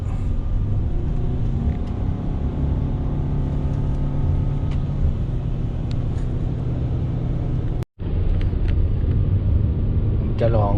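A Toyota Alphard engine braking on a mountain descent: a steady low engine drone and road rumble inside the cabin, held evenly with one brief dropout near the end, and someone talking over it.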